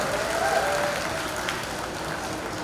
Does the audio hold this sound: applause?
yes